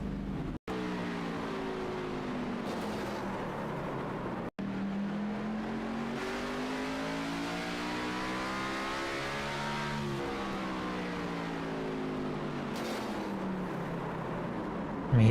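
Onboard audio from a stock car in a racing video game at Martinsville: the engine revs up and down through corners in smooth rising and falling sweeps, loud and close, with brief cut-outs and no talk.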